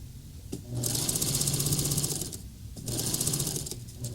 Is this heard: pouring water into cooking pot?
no